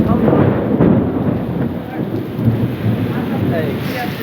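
Loud, dense rain pouring steadily with a deep rumbling roar underneath, continuous and close.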